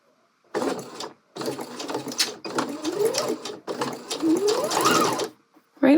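A sewing machine stitches bias binding in four short whirring runs with brief pauses between them, with someone talking over the stitching.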